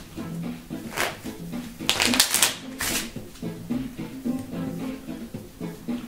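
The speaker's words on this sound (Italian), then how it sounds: "Quindi, fatto lentamente, separo, faccio scorrere quelle che mi interessano e mescolo." Riffle shuffle of a deck of playing cards, done slowly while controlling the bottom portion: short bursts of rapid fluttering card snaps, loudest around the middle, with someone talking throughout.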